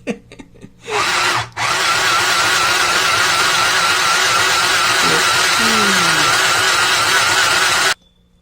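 A small mini sewing machine stitches fabric with a steady, close whirring motor hum. A few faint clicks come first, then a brief stop near the start, and then about six seconds of continuous running that cuts off abruptly.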